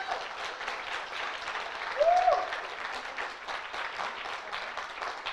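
Sustained audience clapping at a conference general meeting in Galway, even and continuous, with a brief whistle-like cheer rising over it partway through.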